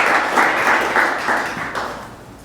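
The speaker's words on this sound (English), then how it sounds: "can we get a round of applause for Sonny?" Audience at a Las Vegas AI tech meetup applauding, a short burst of dense clapping up close that fades out gradually over a couple of seconds.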